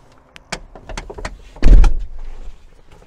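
A series of clunks and thuds from the doors of a Fiat Ducato 3.0 JTD campervan shutting, ending with one louder, solid slam, recorded close up with no talking.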